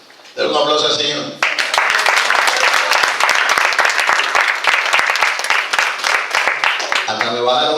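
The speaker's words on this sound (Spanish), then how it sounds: "Denle un aplauso al Señor." A church congregation at an Oasis de Bendición service breaks into loud, sustained applause with dense clapping, bracketed by a voice speaking just before and after.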